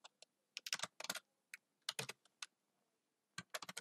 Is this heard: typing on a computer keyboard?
yes